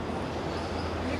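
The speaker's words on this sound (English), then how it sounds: "The noise you hear is the train passing on the bridge above us." Steady low rumble and rattling roar of a train rolling overhead across a steel bridge in Chongqing's Longmenhao lane area, continuous and fairly loud throughout.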